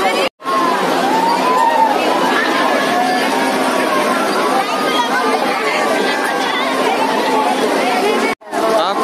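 Dense crowd chatter fills a busy Madai fair in Mohla, a steady babble of many voices at an outdoor village fair, continuous and fairly loud with a couple of brief dropouts.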